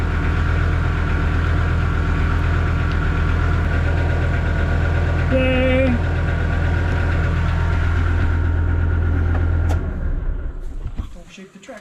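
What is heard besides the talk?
Kubota M4900 tractor engine idling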